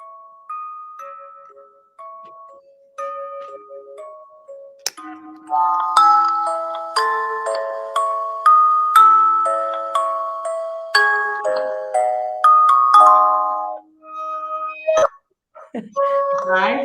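A handmade paranormal motion sensor, built from assorted speakers, gives off its alert as a run of electronic beeping tones. The tones go from sparse single notes to a dense, loud, rapid chime sequence, and brief voices follow near the end.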